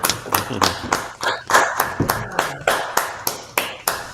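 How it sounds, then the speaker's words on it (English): Rhythmic, evenly spaced claps, about three per second, close and fairly loud, with some low thuds and murmured voices underneath, as a small group joins in a round of applause during a garden visit. "this is a round of applause for this first part here"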